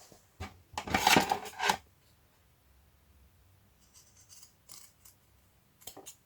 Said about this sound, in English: I'm also thinking about cutting off this leaf because it's weird